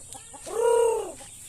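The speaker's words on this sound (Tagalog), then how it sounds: "Ayan, yung tandang na pula." A single drawn-out call from a red rooster, close and fairly loud, rising and falling over about a second with no talking.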